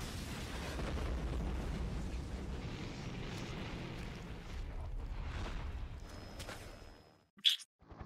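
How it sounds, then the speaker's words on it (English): Missiles explode in the PlayStation game Parasite Eve: a long, rumbling blast roars for several seconds and then fades to silence, followed by a brief sharp pop near the end. "Fire the missiles."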